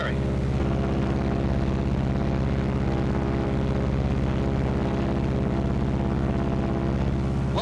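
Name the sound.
B-26 bomber aircraft engine RPM dropping and rising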